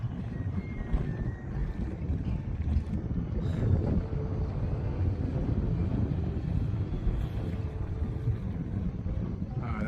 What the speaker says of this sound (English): See the wind just pushing the plane.